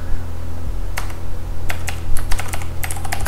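Keys clatter on a computer keyboard as a password is entered during a software install, with quick irregular clicks over a steady low background hum and no talking.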